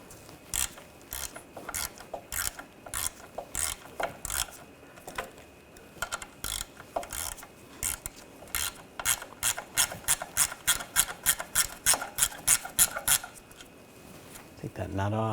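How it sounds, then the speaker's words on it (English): A ratchet with a 10mm socket removes a nut on the rear suspension of a 2007-2013 BMW X5, where the level sensor meets the lower control arm: close bursts of rapid metallic clicking that grow quicker and steadier toward the end. "you're going to take this nut off, use a 10mm socket"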